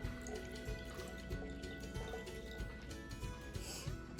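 Water is poured into a spray bottle, a close, continuous liquid fill with gurgling and dripping texture and a rising tone as the bottle fills, with no voices.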